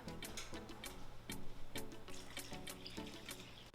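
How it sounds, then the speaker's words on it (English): A canful of water goes into a pot of Thai coconut chicken curry, a close, steady pour and splash with rhythmic glugging pulses, heard alone without any talk. "We also need to add a can full of water."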